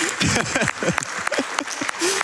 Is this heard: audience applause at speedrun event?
yes